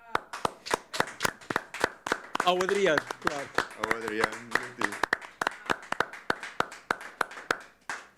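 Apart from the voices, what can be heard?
people clapping hands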